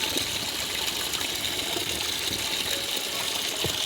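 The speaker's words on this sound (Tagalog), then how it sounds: "Ngayon, ang lakas ng pressure ng tubig." Water gushes out under strong pressure after a screen is pulled from the opening, a steady, loud, broadband rush with no pauses.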